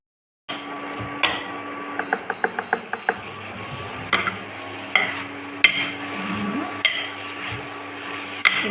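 Bottle gourd kurma ingredients sautéing in oil in a pan, with a steady low sizzle under repeated sharp metallic taps and clicks of a spoon against the vessel, close and fairly loud.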